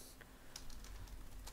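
A command is typed on a computer keyboard in a terminal, a few scattered soft key clicks at close range, faint and unhurried, with no talk.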